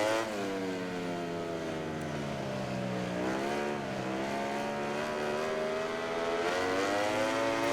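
A racing motorbike engine screams steadily in the video game MotoGP 19, a sustained high-revving tone that dips and climbs slightly in pitch as the bike rolls through a corner, loud and alone.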